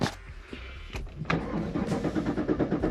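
A Chevrolet Camaro SS fitted with an E85 kit cranks with a short whir, then fires up into a deep, rumbling idle that rises and settles, heard close up with no talking.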